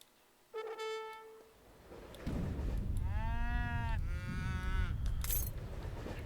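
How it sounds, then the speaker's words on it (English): Cows mooing in the strategy video game Age of Empires 3, a couple of long drawn-out lowing calls over busy game ambience and a high jingling effect, no talk during the calls. "Get the cows into the base."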